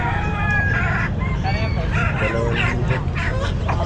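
A white kelso rooster crows at a pet market in Caumpit, a clear nearby call over steady crowd murmur and other fowl, with people talking throughout.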